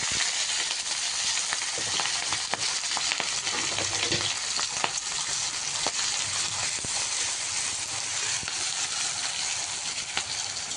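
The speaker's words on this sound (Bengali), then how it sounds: "এই তো আমার পেঁয়াজ রসুন এগুলা ভাজা হয়ে গিয়েছে।" Onion, garlic and green chili frying in hot oil with cumin seeds, a steady dense sizzle running throughout with occasional stirring clicks, close and fairly loud.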